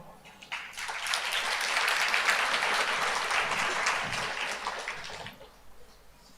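Congregation at a church sermon breaks into applause: a dense, sustained wash of many hands clapping that rises quickly, holds for several seconds and then trails off.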